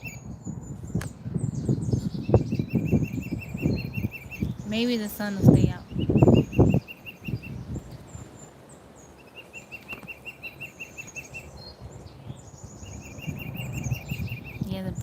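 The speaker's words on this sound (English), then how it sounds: "Man, the birds are loud." Birds sing and chirp in the woods, with repeated high trills over an off-grid outdoor setting, along with some rustling and flapping. A person speaks briefly.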